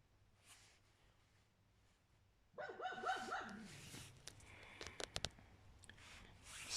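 A dog indoors barking and whimpering, starting after a quiet stretch with a burst of yips and whines followed by a few sharp, loud barks near the end.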